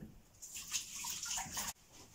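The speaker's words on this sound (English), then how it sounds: "so I wash my hands" Tap water runs over hands at a sink nearby in a kitchen, splashing steadily for a couple of seconds before the flow is shut off abruptly.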